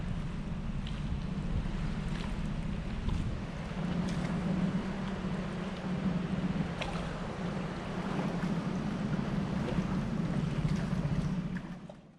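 Mariner 25HP two-stroke outboard motor idling at slow tick over near Fingal's Cave on Staffa, a steady low droning hum running unbroken for about twelve seconds with wind noise over it, then fading at the end.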